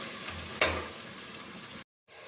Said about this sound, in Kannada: ಹಂಗೆ ನಾನಿವಾಗ ಹಸಿ ಬಟಾಣಿ ಹಾಕ್ಕೊತಾ ಇದ್ದೀನಿ.